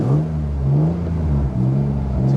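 A BMW E36 M3 engine revs on a snowy road, a steady low droning note that swells and dips slightly, close and continuous with no talk.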